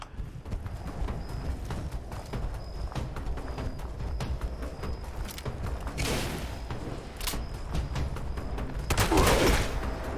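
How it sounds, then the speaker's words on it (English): Shotgun blasts in Fallout 76 ring out amid clattering mechanical game noise, with sharp louder bursts standing out toward the later part. "he should still be staggered when I shoot him in the face with a shotgun"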